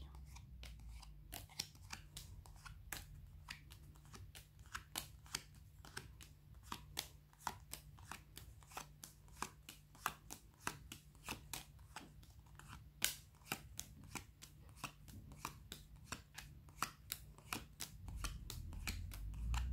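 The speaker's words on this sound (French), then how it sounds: "on coupe et on retourne les cartes jusqu'à trouver le soleil" Tarot cards being cut and turned over one by one during a card reading, a rapid run of crisp, close card snaps and flicks across the whole stretch, with no talking.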